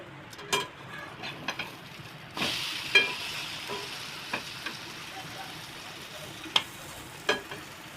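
Egg Bombay toast fries in a pan with a steady low sizzle, broken by a few sharp clicks and scrapes as the slice is turned, and a louder burst of frying after the flip.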